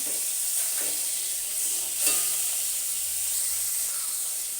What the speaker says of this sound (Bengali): আমি উল্টে দেবো আবার এ পাশটা ঠিক একই রকমের আমি ভেজে নেব